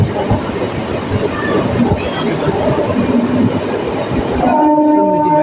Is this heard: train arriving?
yes